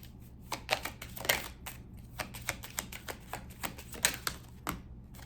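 Tarot cards being shuffled and drawn, a quiet series of soft papery flicks and taps at an uneven rhythm, close and faint with no talking.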